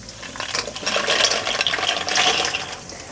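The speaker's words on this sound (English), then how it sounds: "We're going to grab our noodles here, and we're just going to pour them all right in to the water." Dry pasta noodles poured into a pot of boiling salted water, a loud, dense rattle and splash of noodles hitting the water that lasts the whole time.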